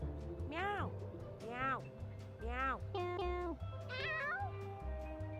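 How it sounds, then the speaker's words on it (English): Little cartoon cats meowing in the video game Mewgenics, five distinct rising-and-falling meows spaced about a second apart over a low electronic hum, with a person speaking alongside. "Wait, they actually have like little meows."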